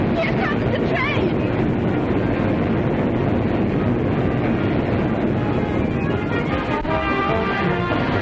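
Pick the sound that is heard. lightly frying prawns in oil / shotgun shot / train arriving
train arriving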